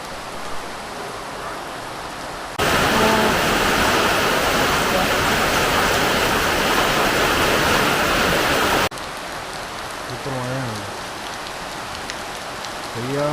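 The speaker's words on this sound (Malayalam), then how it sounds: "മഴയോ മഴ." Heavy, steady rain pours down at home for about six seconds, starting and stopping abruptly, with quieter household sounds and a brief voice in the moments around it.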